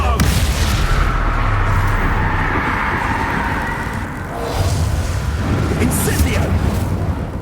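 Expulso explosion spell in Hogwarts Legacy: loud booming blasts with a rumbling roar that holds for several seconds, dips briefly, then erupts again, close and heavy, with a voice talking over it.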